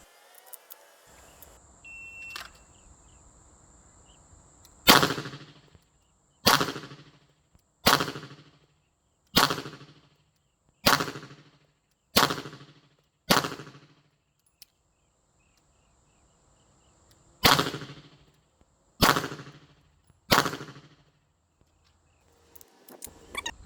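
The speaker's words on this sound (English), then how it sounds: "and we shoot 10 shots" Ten sharp pistol shots fired at IPSC target practice from about seven meters, in two quick strings of seven and three, each crack loud and close with a short decaying tail, separated by silence.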